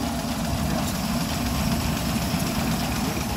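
A Rolls-Royce car engine runs steadily while driving at around 65, producing a continuous low, even hum and rumble with road noise and no voices.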